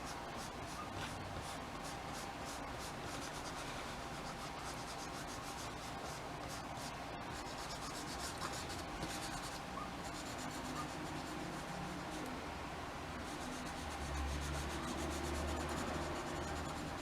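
Soft, steady rubbing of an eraser or fingertip across paper to lift marks from a pastel portrait, a continuous close scratchy texture with no talking.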